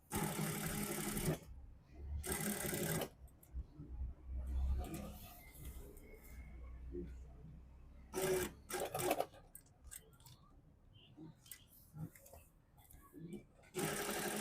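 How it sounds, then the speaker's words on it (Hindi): A sewing machine runs in short bursts while stitching along the collar edge of a suit coat, buzzing runs separated by pauses, close by, with a voice talking in between. "ऐसे पूरा कॉलर के साथ साथ किनारे की सिलाई आपने लगानी है"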